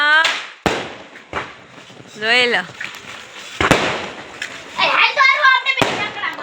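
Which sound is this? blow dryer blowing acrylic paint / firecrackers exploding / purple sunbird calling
firecrackers exploding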